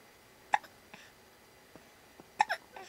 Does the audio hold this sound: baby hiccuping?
yes